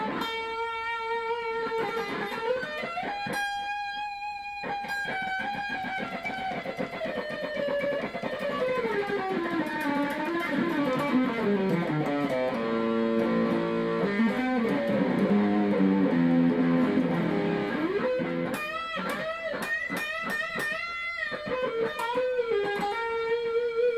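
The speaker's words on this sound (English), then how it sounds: "Here's a little more distortion." A 1990s Korean-made DeArmond Starfire IV electric guitar played through heavy distortion, sustained and sliding notes ringing out continuously, loud and close with no voices.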